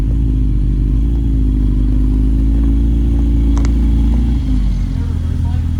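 A Lotus Elise S1 sports car idles and is driven a short way. A deep, steady engine drone runs close and loud throughout, with a few light clicks on top.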